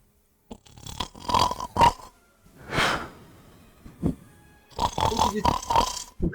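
A voice imitates the snoring of a sleeping dwarf with several drawn-out, rasping snores and gurgling breaths, loud and close, separated by short pauses.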